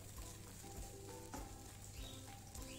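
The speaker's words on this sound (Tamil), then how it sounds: "1/4 கப் அளவுக்கான பீன்ஸை நீலவாக்கில் இந்த மாதிரி கட் பண்ணி சேர்த்துக்கோங்க. சேர்த்துட்டு சும்மா ஒரு தடவை இந்த மாதிரி வதக்கி விட்டுக்கலாம்" Carrots and beans sautéing in a pan, a steady close sizzle with a few stirring scrapes over roughly three seconds.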